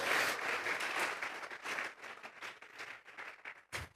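A church congregation applauds during a Spanish-language sermon, the clapping dense and loud at first, then thinning into scattered claps before it stops.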